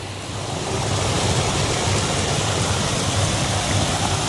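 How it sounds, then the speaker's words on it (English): Steady rushing of spring water flowing down into a swimming area at a forest resort, a loud, dense, continuous wash of splashing water with no voices. "There is the water source from the spring, which flows down to the swimming area"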